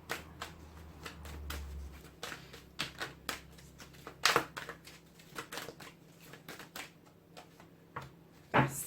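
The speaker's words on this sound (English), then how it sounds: "I have to shuffle forever to get an energy card out for you guys." Tarot cards being shuffled by hand: a rapid, irregular series of soft papery riffles and slaps, close and fairly quiet, with a few sharper snaps, no talk.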